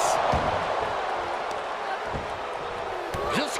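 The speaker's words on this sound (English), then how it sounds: "This snap suplex." A snap suplex in the WWE 2K23 wrestling video game lands with a few heavy thuds against the mat. The impacts come through a steady arena crowd roar and ongoing commentary voices.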